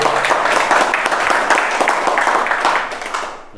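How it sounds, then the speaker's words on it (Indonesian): Audience applause at a Sundanese cultural stage event, a loud burst of dense clapping that fills the moment and fades toward the end. "Tepuk tangan yang meriah buat Aang Edi Suwandi."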